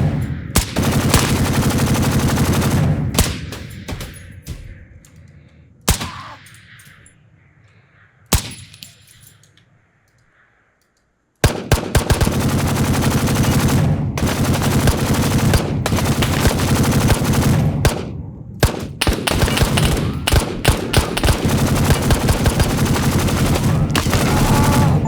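Rapid bursts of automatic gunfire from the video game Operator: Canoe Club, loud and close, firing in long sustained volleys with a quiet pause in the middle before shooting resumes, with a brief voice in between.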